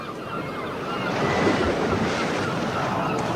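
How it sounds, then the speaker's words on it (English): Rough sea with whitecaps building as weather comes in, waves surging and breaking in a continuous roar with strong wind buffeting the microphone, no voices. "The sea's getting up."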